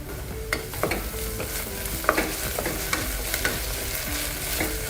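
Chopped onion and ginger garlic paste sauté in a pot for dal khichadi, with a steady sizzle and a run of repeated spoon scrapes and stirs knocking against the pot, close and clear.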